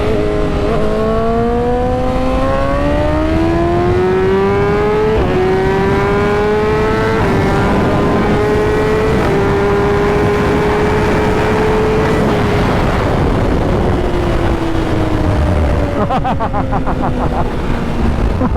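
A Kawasaki ZX-10R racing motorcycle engine revs loud and close, its pitch climbing steadily through the gears, holding high, then falling away as the throttle eases.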